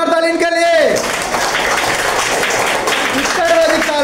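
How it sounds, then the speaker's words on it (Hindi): A classroom of students applauds in a Hindi-language history lesson, with steady, loud clapping filling the clip as a teacher's voice trails off at the start and returns briefly near the end. "वेरी गुड, जोरदार तालियों के लिए।"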